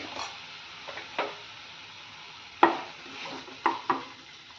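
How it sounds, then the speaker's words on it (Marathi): Mutton stirred and sautéed dry in a pan: a faint, soft sizzle is broken by a few separate spatula scrapes and taps at uneven intervals. "त्याच्यामध्ये मटण टाकून घेऊयात आणि सुक्क परतून घेऊयात व्यवस्थित"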